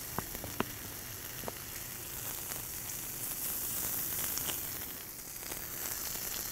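Onions laid on a hot cooking surface for a bacon cheeseburger crackle into a steady, fine hiss, with a few sharp pops near the start.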